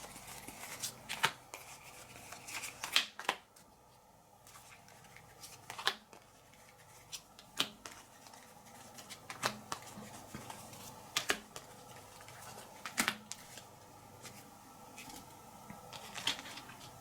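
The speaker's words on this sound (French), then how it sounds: "Alors je prépare mes 8 paquets de 5 cartes." Playing cards handled quietly at a table, shuffled and dealt into eight packets of five, with repeated soft snapping flicks and light riffles spaced irregularly over a faint hush.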